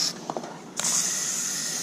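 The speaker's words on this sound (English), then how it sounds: "I'm going to just stick some spray paint in a bowl" An aerosol can of spray paint hisses into a small paper bowl, first in a short burst, then in one long steady spray close by, with faint clicks between.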